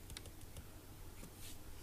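Typing on a computer keyboard, faint soft key taps scattered irregularly over a quiet background.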